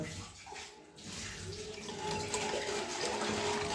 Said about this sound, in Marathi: पाणी भरायचं काम बाटल्यामध्ये पाणी भरायचं